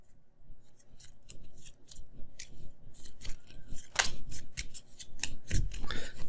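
Tanto Cuore playing cards being shuffled during a board game, a run of crisp riffling and sliding snaps, close and intermittent, growing busier toward the end.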